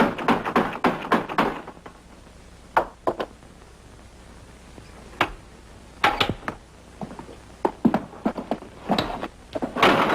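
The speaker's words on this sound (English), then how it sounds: "Open up! Open this door!" Sharp knocks and bangs on a farmhouse door in a 1961 wartime drama, scattered raps in irregular clusters, fairly close and clear against a quiet background with no talk.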